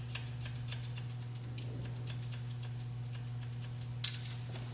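Scissors snip through hair held along a cutting guide during a haircut, a series of soft, quick, close clicks repeating steadily, with one sharper cut near the end over a faint hum.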